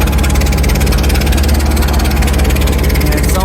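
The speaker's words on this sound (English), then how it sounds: "There's an exhaust leak somewhere here." A Rolls-Royce Silver Shadow engine with an exhaust leak idles steadily and loudly, with a rapid, even puttering and a raspy ticking layered over the low rumble.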